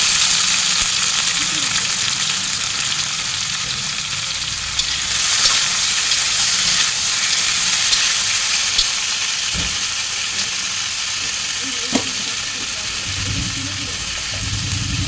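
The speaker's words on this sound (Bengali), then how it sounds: "এবারে লতি ভাত দিয়ে রেখেছিলাম, লতিগুলো দিয়ে দিলাম।" Taro stolons fry in hot oil with black cumin and green chilli, giving a loud, steady close-up sizzle throughout with occasional stirring clatter.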